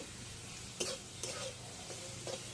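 Chicken in a pan getting stirred after a sprinkle of garam masala powder, soft sizzling under a few spoon scrapes and strokes, quiet and close.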